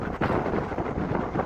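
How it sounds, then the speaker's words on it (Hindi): Strong mountain wind buffets the microphone near a Himalayan village in Kinnaur, Himachal Pradesh, a loud, continuous broadband roar with gusty surges and no voice. "हवा बहुत तेज चल रही है, बहुत ही तेज हवा है।"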